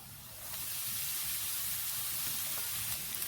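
Chopped banana flower hits a pan of onions sautéed to light brown, giving a steady, loud sizzle and hiss that runs throughout without a break, with no one speaking.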